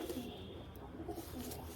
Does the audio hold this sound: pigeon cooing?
yes